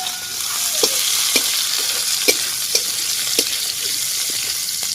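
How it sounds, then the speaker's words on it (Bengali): Chopped green chilies are stirred into dalia khichdi frying with potato and soybean in a pan, a loud continuous sizzle broken by regular spoon scrapes and clacks, close up with no voices. "এবার আমি দিয়ে দিচ্ছি কুচিয়ে রাখা কাঁচা লঙ্কা।"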